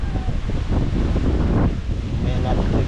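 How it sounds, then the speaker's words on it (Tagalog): Strong wind gusts across an open rice paddy eel-fishing area, buffeting the microphone with a loud, low rumble that stays constant throughout. "grabe ng hangin, no?"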